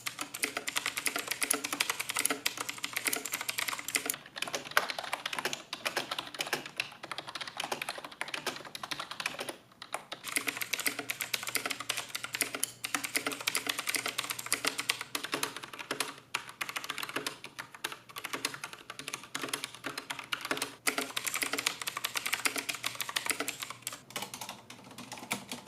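Steady, brisk typing on a Hermes E2 TKL mechanical keyboard with blue switches, a dense run of crisp, clicky keystrokes heard up close and alone for a long stretch.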